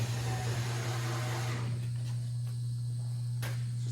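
Screws being driven into a wine barrel Adirondack chair, heard as a steady mechanical whine with a low electric hum beneath it, close by, fading after about a second and a half into quieter hum, with no talking.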